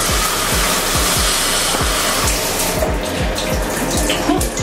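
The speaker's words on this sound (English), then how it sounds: "The shower head looks relaxing. It sounds relaxing too. It's almost like a rainfall." A cruise ship cabin's rainfall shower head sprays with a steady hiss like heavy rainfall, with a soft repeating thump underneath and no voices.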